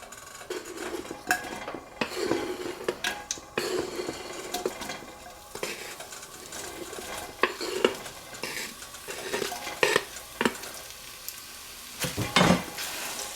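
Andouille sausage browns in a tablespoon of oil in a preheated pot, a soft sizzle under intermittent scraping and clinks of a utensil stirring against the pot, quiet and close.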